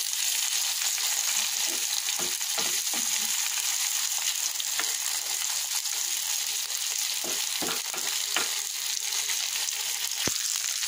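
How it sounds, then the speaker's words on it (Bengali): Onions being turned and stirred in a frying pan with koi fish give a continuous close sizzle, broken by scattered sharp scrapes and taps of the spoon against the pan. "পেঁয়াজটাকে উল্টে পাল্টে একটু মিশিয়ে দেবো।"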